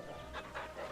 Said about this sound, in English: I tried to pet the dog